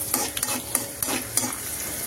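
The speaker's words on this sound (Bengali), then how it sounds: "তারপরে এইখানে দিব হচ্ছে রসুন, সজনা পাতা ভাজবো।" Garlic and dried red chillies fry in a hot pan with a continuous close sizzle, broken by several scraping stirs of a spatula at irregular intervals.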